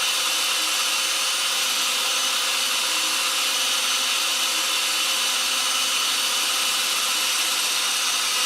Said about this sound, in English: And drill a pilot hole.